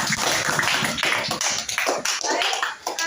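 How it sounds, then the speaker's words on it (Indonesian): Students clapping in a classroom, a brisk, fairly loud burst of many hands in uneven rhythm, close to the listener, tapering slightly toward the end. "Berikan tepuk tangan."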